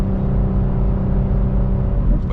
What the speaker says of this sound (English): Car might be straight pipes, I'm not too sure